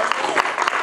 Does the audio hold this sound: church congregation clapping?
yes